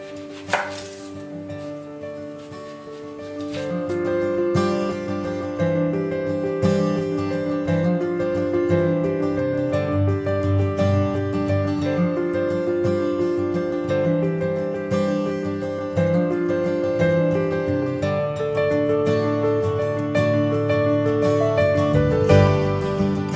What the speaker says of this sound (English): We finished chopping up all of our vegetables